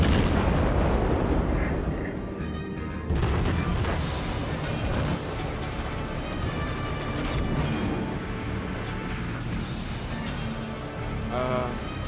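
Naval gunfire from warships in the game World of Warships, heavy booming cannon blasts and rumbling explosions layered over continuous engine and sea noise, loud and dense throughout.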